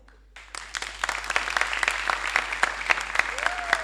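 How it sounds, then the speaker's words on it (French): Audience applause fills a comedy show hall after a call to cheer, starting abruptly and continuing as dense, loud clapping from a crowd, with a voice briefly heard over it. "j'aimerais qu'on applaudisse très fort pour le CCF"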